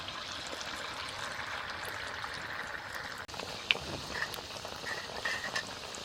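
Malpua batter going into moderately hot oil for a Jitiya fast dish in a village kitchen, giving a soft, steady, low sizzle and bubbling with a faint clink partway through, with nobody speaking.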